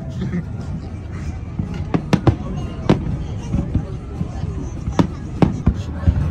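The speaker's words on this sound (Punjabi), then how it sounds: "ਪਟਾਕੇ ਚੱਲਣ ਭਾਜੀ ਠਾ ਠਾ ਠਾ ਠਾ ਠਾ" Firecrackers go off in a series of sharp, irregular bangs, some close and loud, with people talking in the background.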